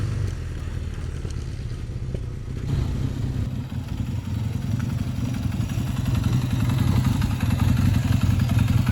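A Kawasaki Z440 LTD classic motorcycle engine runs steadily close by, a continuous low mechanical drone that grows slightly louder partway through, with no talking.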